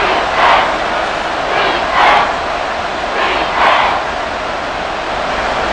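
Stadium crowd in the Madden NFL 24 football game between the Tennessee Titans and Tampa Bay Buccaneers, a steady distant roar with several swelling bursts of cheering that rise and fall, no voices over it.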